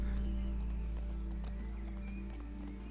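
Horse hooves clip-clopping in The Last of Us Part II, a quiet run of soft repeated hoofbeats under a steady low game rumble and faint music tones.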